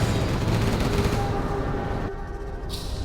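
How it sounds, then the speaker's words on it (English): Dense, sustained gunfire and explosions from a base attack in the strategy game Command & Conquer Generals Zero Hour, a USA Laser General against a China Nuclear General. The rapid battle noise is loud and continuous, then drops off sharply near the end. "Our base is being attacked."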